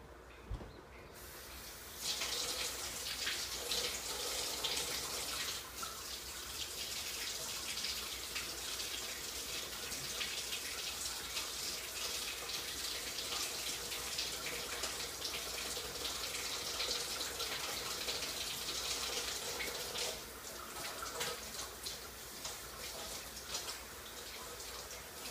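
A kitchen tap runs warm water to soak towels while making sourdough, a steady hissing gush that starts abruptly and continues almost unbroken for about twenty-five seconds with no talking.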